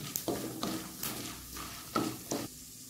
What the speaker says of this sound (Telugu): జీలకర్ర, ఆవాలు, శనగపప్పు, మినపప్పు ఇవి మంచిగా ఫ్రై చేసుకోవాలి సిమ్లో పెట్టుకొని